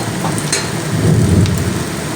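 Garlic and ginger paste hits hot oil with onions, giving a loud, dense sizzle that swells and crackles throughout, close and continuous with no voices.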